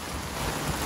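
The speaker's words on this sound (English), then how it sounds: "We got a lot of water going into the shop." Hurricane Ida floodwater pours into a shop as a continuous broadband rush, fairly faint and steady through a brief moment, with no voices.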